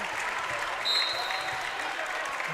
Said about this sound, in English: gets a round of applause as well.